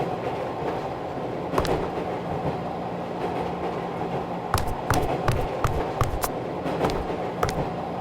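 A train car rumbles steadily in the video game Nanashi no Game, a constant low roar with repeated sharp clickety-clack rail beats spaced across the second half, fairly loud and without voices.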